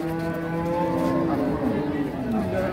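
A Holstein Friesian cow and her calf moo at a busy cattle market, one long loud low moo followed by a drawn-out falling call, with crowd chatter underneath.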